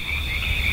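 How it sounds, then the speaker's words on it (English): Frogs at a pond in Northwest rain, a dense continuous chorus of high trilling croaks, loud and steady over a low rumble of rain. "Here's some frog."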